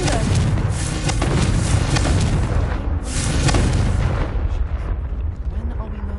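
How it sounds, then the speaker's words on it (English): Confringo fire spell explosion in the video game Hogwarts Legacy, a loud rumbling blast with crackling bursts that rolls on and slowly fades, with a voice speaking during it. "Confringo!"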